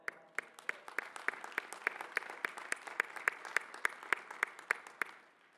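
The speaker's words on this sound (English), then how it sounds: "Yes, let's applaud them." A graduation commencement audience applauds faculty and staff with a sustained, evenly paced round of clapping. Sharp individual claps stand out over the crowd, which fades slightly at the end.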